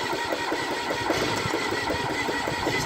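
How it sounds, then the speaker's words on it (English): A CompAir mobile compressor engine cranks over with its air valve open, giving a steady run of close, rhythmic chugging pulses that continue through the clip without a catch. "we have to have the air valve open so we're not trying to compress air while we're turning it over"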